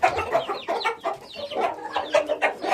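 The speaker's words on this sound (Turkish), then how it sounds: "Şu ikisi horoz arkadaşlar. Biri horoz diye düşün, biri tavuk." Roosters and hens cluck close by in a busy, overlapping stream of short calls, with no talk.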